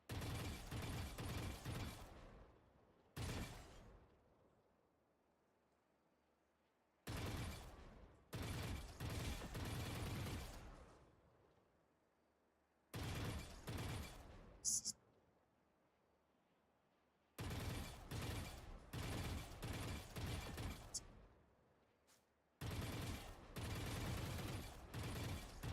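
Bursts of rapid gunfire from shooting robots in a video game come in loud, dense volleys of several seconds each, separated by near-silent gaps, with no voices over them.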